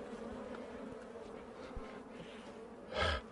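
Bees buzzing faintly around a person, a soft low hum with a louder buzz passing close by near the end, in a quiet outdoor setting.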